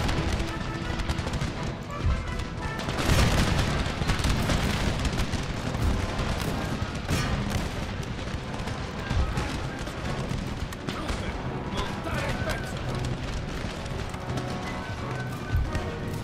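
Cannon and gunfire in a battle of Empire Total War with the Italian States, repeated booms and crackling volleys over a busy battlefield din, with a voice talking intermittently over it.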